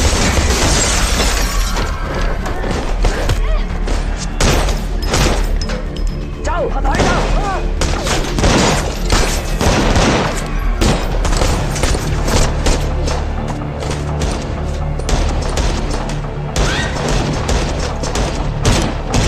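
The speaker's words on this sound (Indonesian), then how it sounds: "situasi kacau dan adegan tembak-tembakan pun terjadi antara berbagai pihak." A chaotic gunfight in the Hong Kong action film SPL 2: Time for Consequences, with rapid bursts of gunfire and heavy booming impacts. Crashing, shattering debris sounds loud and dense throughout and barely lets up.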